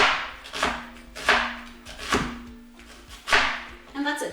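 Knife chopping an onion into strips on a board, five or six crisp, evenly spaced thuds close by, with a person talking briefly at the end.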